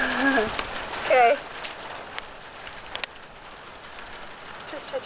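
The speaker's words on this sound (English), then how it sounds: "Don't stop raining." Rain patters on the roof of a converted school bus as a steady, soft hiss with scattered drops. Faint voices and a few brief squeaks sit near the start.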